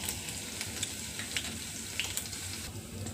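Asafoetida and sesame seeds crackle in a hot oil tempering, a steady close sizzle with a few sharp pops, steady throughout without any talk.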